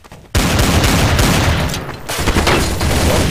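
TMP submachine gun in Counter-Strike: Source firing loud, sustained rapid automatic bursts with a brief gap in the middle, up close and without talk.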